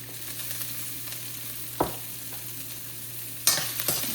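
Dal dhokli is stirred in a pan after salt goes in, a soft low sizzle with a few sharp scrapes and clinks of a spoon against the pan, close and fairly quiet.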